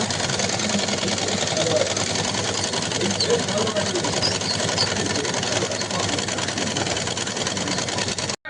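A sewing machine runs without thread in a steady, continuous mechanical whir with a rapid rattle that holds evenly throughout and then stops abruptly at the end.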